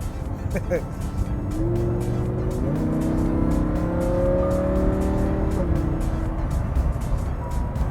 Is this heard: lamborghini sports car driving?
yes